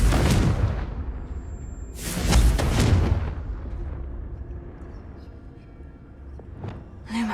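Confringo fire spell blasts in Hogwarts Legacy while exploring haunted Hogsmeade: a loud booming burst at the start, a second heavier explosion a couple of seconds later, then lingering rumble and a faint pop near the end.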